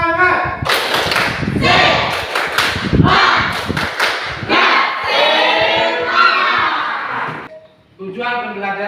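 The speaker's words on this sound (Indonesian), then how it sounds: "Tepuk semangat." Students in a classroom perform a rhythmic spirit clap led by their teacher, loud patterned bursts of clapping and thumps mixed with shouted chanting voices, ending with a brief pause and a final burst.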